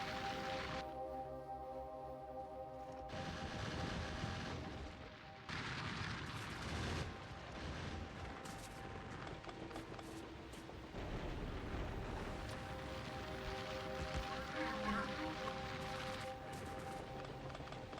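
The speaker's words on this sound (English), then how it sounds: "I'm fighting explosive biters, so they certainly explode" Explosive biters in the video game Factorio burst repeatedly in a dense, continuous run of booming pops and rumbles over steady mechanical factory hum, with no talk.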